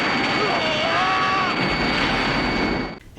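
Airplane sound effect from the Return of Ultraman TV series: a loud, steady engine roar with a high whine and a falling pitch sweep, cutting off abruptly near the end.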